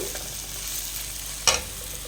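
Tempering for mango rice sizzles steadily in a hot pan, a continuous crackling fry broken by one sharp stirring clink.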